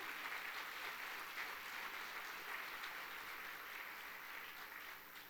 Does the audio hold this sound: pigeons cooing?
no